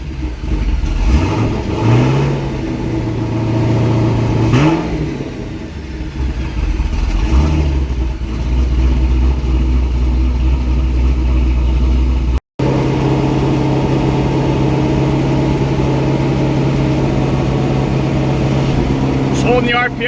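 A twin-turbo C6 Corvette Z06 engine on its first start, with loud close revs that swell and fall in several blips before settling into a steady held idle around 2,000 rpm, with a voice speaking over it.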